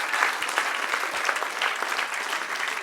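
Church congregation clapping together in steady, sustained applause, a dense patter of many hands filling the room with no voices on top.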